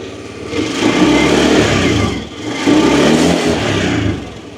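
Honda Scoopy i Club12 motorcycle with its stock exhaust, revving in two loud, close bursts that rise and fall with a brief dip between them.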